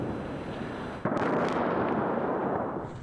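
An explosion in Tehran: a sudden broadband boom about a second in, cutting into a steady dense rumble that then stays loud and rough to the end.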